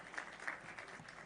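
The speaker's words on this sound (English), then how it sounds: "A round of applause to Changamke this afternoon." Audience applause at a national pastoralists conference in a hotel hall in Isiolo, greeting a performer taking the stage: a faint, steady wash of clapping that holds evenly for a moment without pause.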